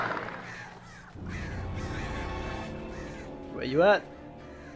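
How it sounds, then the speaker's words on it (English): A crow caws loudly and close in the Alan Wake game, one harsh wavering call near the end, after someone speaks briefly over a low ambient background. "Damn birds."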